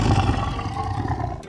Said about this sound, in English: It's the leopard that makes the snarling sound.